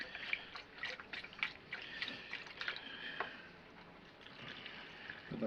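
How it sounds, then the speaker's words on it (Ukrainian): Cold salted water is poured over cucumbers in a jar, making quiet, uneven trickling and dripping splashes that come and go without any talk. "пробуємо швидко заливати, поки ж не осіла наша соль"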